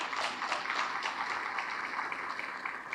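A banquet crowd at the Edinburg Firefighters' Awards applauds Tony Fodina, dense, even clapping from a roomful of people that holds steady throughout without any voices.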